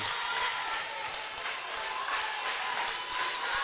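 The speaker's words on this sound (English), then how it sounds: "As the crowd starting to come back alive once again." A volleyball crowd at a McLennan Community College versus Navarro College match keeps up a steady, dense roar of cheering and chatter in a gym, with faint ball bounces and claps scattered through it.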